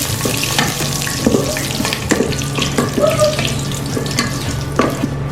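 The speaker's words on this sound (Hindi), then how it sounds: "इसको हम करेंगे थोड़ा सा फ्राई।" Whole spices (bay leaves, cloves, cinnamon and black cardamom) frying in a pot for mutton yakhni pulao, a loud, steady close sizzle with occasional stirring clinks and scrapes.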